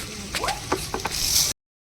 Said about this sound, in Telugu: ఇప్పుడు బియ్యం వేసుకుందాం.